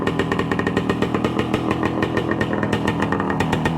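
A warmed-up 1966 Suzuki Bearcat motorcycle engine idles steadily nearby, a loud, even, rapid two-stroke-style putter with regular pulses and no talk over it.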